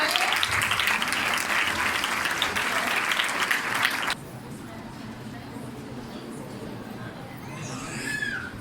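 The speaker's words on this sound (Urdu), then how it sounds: "تالیاں بجتی رہنی چاہیے" Loud, dense audience applause at a seminar held in a church parish hall, sustained clapping for about four seconds that then drops to a quieter room murmur.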